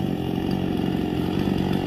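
A chainsaw cutting a tree runs loud and close in a steady, continuous drone with no break, and no speech over it.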